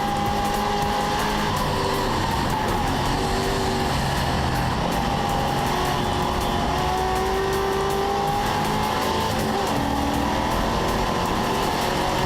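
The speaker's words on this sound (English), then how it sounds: "We go on board now with Mike Schmidt in the Frankie's Ford Capri" Continuous loud engine roar heard from inside a Ford Capri race car, with steady drone and shifting pitch as it accelerates and brakes, tires occasionally squealing.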